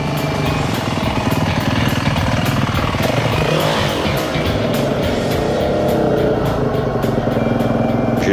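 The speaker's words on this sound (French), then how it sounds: "donc on a repassé la moto au banc" A motorcycle engine runs hard on a dynamometer (power bench) in a workshop, a loud, continuous mechanical roar that holds steady throughout with no talking.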